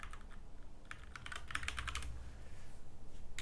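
Typing on a computer keyboard into an app store search box, a brisk run of close, crisp key clicks that thickens into a dense burst midway, with no voices.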